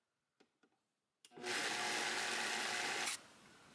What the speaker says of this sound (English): I just added some oats to my Vitamix. I'm making a bunch so I can have some extra, and you're just gonna blend this up.